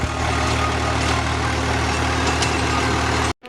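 A tractor engine running a rotavator on a farm field drones loud and steady at close range, then cuts off abruptly just before the end.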